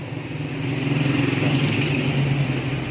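Suzuki Raider 150 motorcycle, converted from carburetor to fuel injection and fitted with an Fi exhaust pipe, runs at a steady, loud, close idle with a slight rise in revs and a continuous buzzing drone.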